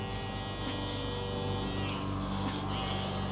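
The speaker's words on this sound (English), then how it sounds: "we have to go back, use a trimmer" An electric hair trimmer buzzes continuously and loudly up close while it cleans up hair during a mid drop fade haircut, with a steady motor whine that barely changes over the few seconds.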